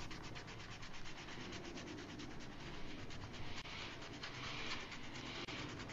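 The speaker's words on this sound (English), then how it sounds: "So I've got a kneadable eraser, and I'm just going to very gently erase all the lines" Soft, steady rubbing of a kneadable eraser gently lifting pencil lines from art journal paper, a continuous close scratchy friction with faint repeated strokes and no talking.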